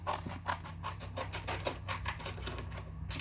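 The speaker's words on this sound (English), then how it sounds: "So just take your scissors and cut." Scissors snip steadily through the perforated edges of a paper craft sheet, a rapid run of crisp, close cutting clicks repeating without pause and with no voices.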